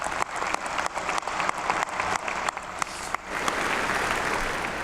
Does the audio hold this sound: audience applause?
yes